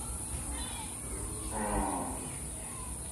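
A Gir heifer lets out a low moo in a cattle yard, a single rising call in the middle of a steady background hum, with someone talking nearby.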